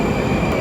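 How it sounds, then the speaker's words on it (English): A Moscow metro train arriving, a loud close rumble and rolling wheel noise filling a brief moment underground. "and already the next train."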